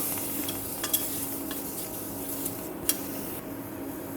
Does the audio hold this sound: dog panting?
no